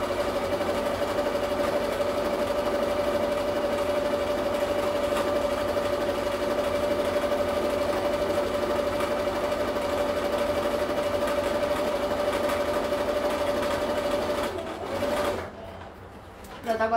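A sewing machine runs steadily for about fifteen seconds, stitching a small doll's hat, with a continuous mechanical whir and a sustained hum, then stops abruptly near the end.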